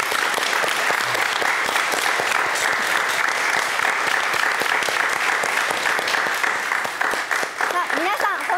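Studio audience applauding the winning blue team at the finale of a Japanese reality competition show, dense steady clapping sustained throughout, with faint voices beneath.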